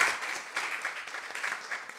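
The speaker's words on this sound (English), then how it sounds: "May I have an applause for our speakers." Audience at a theology conference applauds its speakers, steady dense clapping at moderate volume throughout a short stretch.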